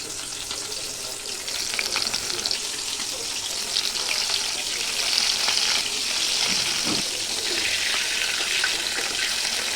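Lote fish pakora frying in hot oil, a steady close-up hiss with scattered crackles and pops that holds evenly throughout, with no voices.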